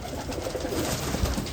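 Fancy pigeons in a loft in Canada cooing, a soft, continuous murmur of low coos from several birds nearby, with no talking.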